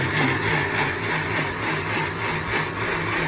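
An electric mixer grinder grinds a coconut spice paste. Its motor gives a steady, loud, close whirring drone with a low rumbling hum, constant throughout and without voices.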